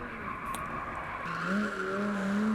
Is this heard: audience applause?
no